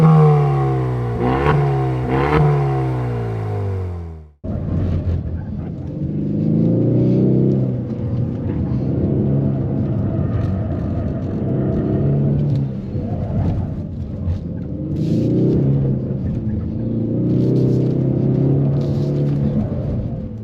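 A 2024 Ford Mustang EcoBoost revs on the Angeles Crest Highway, a brief rising burst of revs followed by a sustained loud engine drone under throttle with ongoing rumble.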